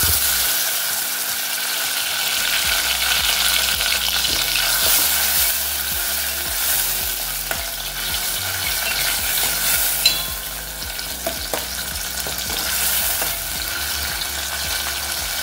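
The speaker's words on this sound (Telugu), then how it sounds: "ఆయిల్ కాగిన తర్వాత ఇందులోకి కరివేపాకు, మీడియం సైజ్డ్ టొమాటో ముక్కలుగా కట్ చేసినవి వేసుకోవాలి" Curry leaves and medium tomato pieces fry in hot oil for tiffin sambar, a steady loud sizzle with repeated ladle stirring and scraping against the pan throughout, no talk.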